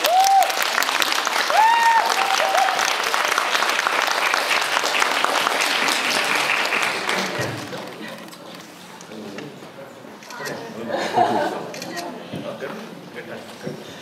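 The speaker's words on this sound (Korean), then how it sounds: "큰 박수로 맞아주세요." At a Korean audience talk after a screening of the film 'Because I Hate Korea', a crowd gives loud applause as the director and actors arrive. A few whoops rise early, then the clapping thins out into scattered claps and murmuring voices.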